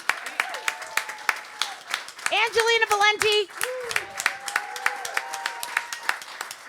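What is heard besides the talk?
audience applause for a performer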